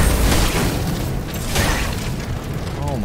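Grenades exploding in the Steelrising video game, a dense run of booming blasts and crackling bursts over rumbling low noise, loud and continuous with no quiet gaps.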